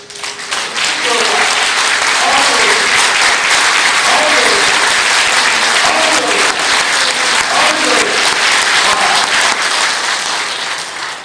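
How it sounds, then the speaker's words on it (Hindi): A large audience at an indoor gathering in Gurdaspur, Punjab claps loudly and continuously, a dense roar of applause with some voices and cheers mixed in, fading slightly at the end. "आपको जितनी जोर से तालियां बजाना आता है उतनी जोरदार तालियां बजाना शुरू करें।"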